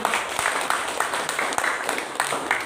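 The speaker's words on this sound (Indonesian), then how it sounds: "Tepuk tangan dulu untuk museum." Audience clapping at the 27th anniversary celebration of Museum Pusaka Nias, a steady patter of many hands with a few sharper claps standing out, moderately loud and continuous.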